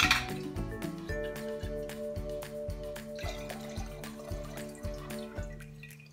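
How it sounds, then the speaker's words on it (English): Seventy percent alcohol is poured from lab glassware into a waste ethanol jar after rinsing bumblebees for pinning, giving close liquid trickles with a regular series of glassy clinks and taps. "I'll pour this into the waste ethanol jar."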